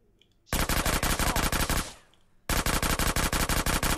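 Rapid automatic gunfire in Grand Theft Auto: San Andreas, loud and close: a sustained burst of shots, a brief pause, then another long burst, with no talking.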